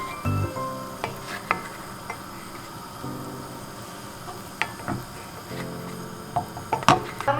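Salmon in a skillet gets a honey garlic mixture spooned over it, producing a soft continuous sizzle with scattered scrapes, clinks and utensil taps on the pan, close and fairly quiet.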